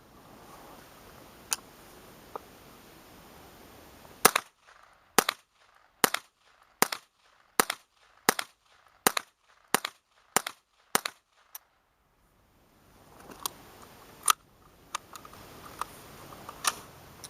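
A Ruger 10/22 takedown rifle with a Leupold scope fires quickly offhand: about ten sharp, evenly spaced cracks in a rapid string, with a few scattered shots before and after. The shots are loud and close, with no talk.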